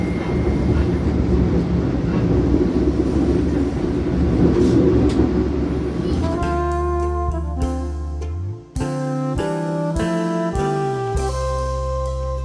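Jayabaya economy train at Bekasi station: a loud, steady rumble of the train on the rails gives way to sustained tonal horn or chime-like notes in shifting steps, close and with no speech.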